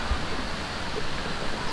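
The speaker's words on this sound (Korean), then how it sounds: "계곡 물소리입니다." Broadband rush of a valley stream near a temple entrance on a hiking trail, water flowing steadily and fairly loud with no talk over it.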